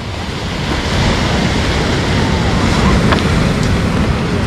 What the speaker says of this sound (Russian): Не, волны действительно классные все-таки.